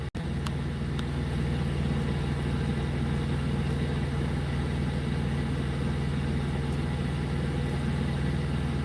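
A truck engine with a replaced short or long block idles steadily up close, a continuous low rumble that holds even for the whole stretch, with one brief click at the start and no talking.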